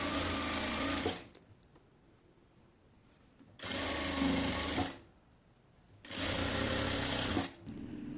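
A sewing machine stitches a sleeve in three loud, steady bursts of running, each lasting one to two seconds and separated by quiet pauses.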